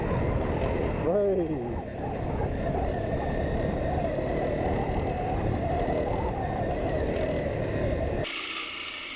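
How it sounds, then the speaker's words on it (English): Rally motorbikes race along an open, very fast trail, a loud continuous engine roar with a rising rev sweep early on, holding steady and close before cutting off abruptly near the end. "found this lovely, open, very fast trail. You can really open the bikes up."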